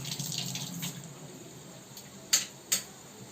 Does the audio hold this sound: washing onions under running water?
yes